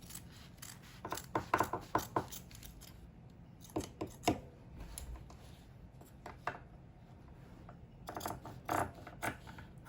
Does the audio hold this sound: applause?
no